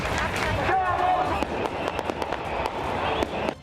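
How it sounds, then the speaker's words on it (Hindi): Flag-waving protest march in city streets, with crowd chanting, clapping and sharp firework cracks scattered through a dense, steady roar; voices talk over the noise. "सड़कों पर नारेबाजी, तालियों की तड़तड़ाहट और आतिशबाजी सुनी जा सकती थी।"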